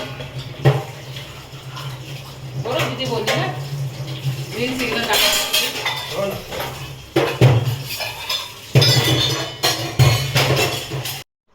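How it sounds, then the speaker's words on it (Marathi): Cooking pots and utensils are scrubbed and rinsed at a village house, with metallic clanks, scraping and splashing water in irregular bursts close by, and a person talking over the clatter. "टोपमध्ये ठेवलेली भांडी ना सगळी जरा घासून घेतली वापरायची"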